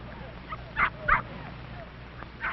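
A mother dog and her puppies give short yips and whimpers, two small bursts close together over a noisy, muffled old recording background.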